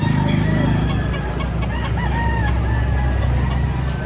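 Rooster, a 7-to-8-month-old gamecock for sale in Lipa, Batangas, crows and clucks loudly and close by, with several crows and steady clucking spread through a noisy outdoor scene with background chatter.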